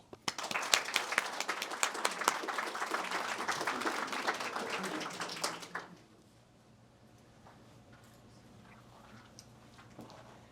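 An indoor audience applauds to welcome a panel, with dense, lively clapping for about six seconds. It then cuts off to quiet room noise.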